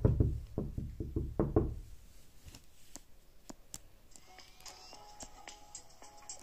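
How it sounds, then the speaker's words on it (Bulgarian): Knuckles rap on a door in a quick series of about seven loud, close knocks, followed by quieter scattered clicks and ticks in a mostly still room. "И тя вече чука на вратата."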